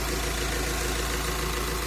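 A Volkswagen Crafter van's diesel engine idles evenly with a steady, low, constant rumble and no other sounds.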